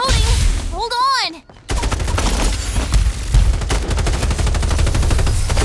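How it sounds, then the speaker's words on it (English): Rapid bursts of gunfire in the mobile shooter game Farlight 84 follow a short synthetic warbling tone and a brief silence, with dense, fast repeated shots continuing to the end. "Firing will commence shortly."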